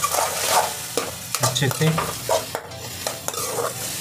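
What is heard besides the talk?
stirring masala in a pan while cooking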